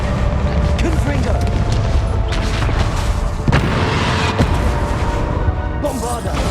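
Confringo spell blasts in the Hogwarts Legacy video game boom and crack several times over a dense, loud bed of game sound effects and ambience.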